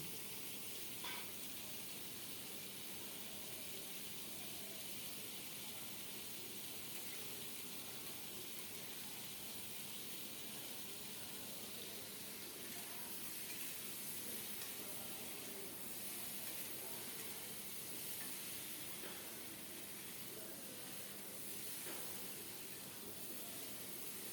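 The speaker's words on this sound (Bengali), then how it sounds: "ঝোলটা ফুটে ওঠার পর এখন ভেজে রাখা ট্যাংরা মাছগুলো দিয়ে দিল" Fried tengra fish drop into a boiling curry with bitter gourd, giving a faint, steady sizzling hiss that continues evenly with no talking.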